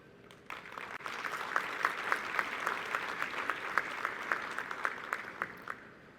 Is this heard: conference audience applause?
yes